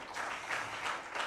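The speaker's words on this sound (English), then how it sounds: "Let's give an applause, a big clap for Michael." Applause from a conference audience at a national wildlife conservation gathering, a steady dense patter of many hands clapping throughout, fairly even in level with slight swells, heard alone without talk.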